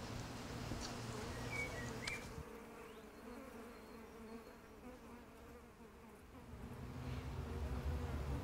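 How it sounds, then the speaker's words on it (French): Honeybees buzz inside an opened beehive, a dense, steady hum of many insects close by that swells slightly toward the end, with no voices. "On va aller ouvrir la ruche et voir ce qui s'y trouve."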